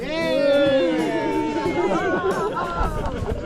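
At Millfield parkrun, a crowd cheers to mark a runner's 100th parkrun. Several voices rise together in a close, loud, wavering whoop of cheering and chatter.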